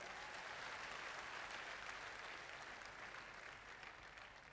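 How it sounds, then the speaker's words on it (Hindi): Audience at a corporate success-day event in Lucknow applauding, quiet steady clapping from a crowd that tapers slightly toward the end, with no voices. "तो क्या मंदिर के लिए एक जोरदार ताली हो जाए?"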